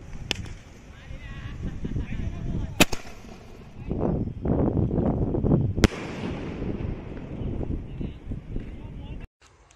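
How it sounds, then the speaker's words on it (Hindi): A sky shot firework is lit and launched, several sharp loud cracks and pops ringing out over steady outdoor background noise, with people talking throughout. "तो हम इस हिंदुस्तानी वाले स्काई शॉट को जला के देखते हैं स्काई शॉट कैसा चलता है।"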